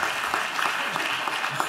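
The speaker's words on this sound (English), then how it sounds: "give him a round of applause anyway" A crowd at a public address on the American economy claps steadily, a dense, even wash of many hands at moderate distance with no talk over it.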